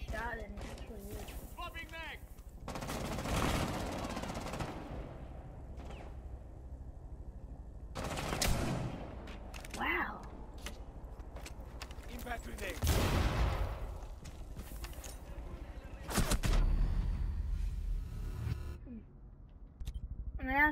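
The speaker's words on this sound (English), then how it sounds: "this shotgun's really good, guys. You can aim that shot and it's really good." Shotgun blasts in a video game, several loud, sharp bursts spaced a few seconds apart, with someone talking between the shots.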